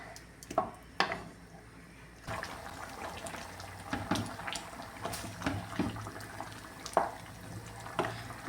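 Chicken curry gravy bubbles in a pan, soft popping and simmering heard close up with a few sharper pops scattered throughout and no voices.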